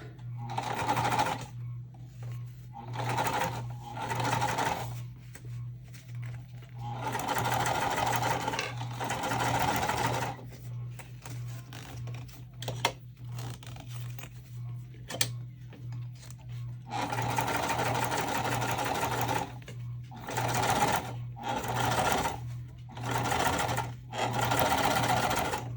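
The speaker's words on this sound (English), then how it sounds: "we'll now top stitch this piece F up" A sewing machine top-stitches a tote bag piece in long steady runs broken by short pauses, a fast mechanical whir continuing for most of the stretch.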